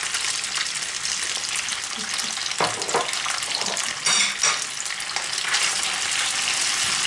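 Beef loin and peppers stir-fried with soy sauce hiss and sizzle continuously in a hot pan, with scattered stirring scrapes and pops over the loud, even frying noise.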